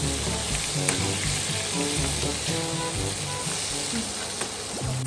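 Cooled chicken fried a second time in hot oil until crisp, a dense continuous sizzle up close with occasional stirring clinks and pops throughout, no voices.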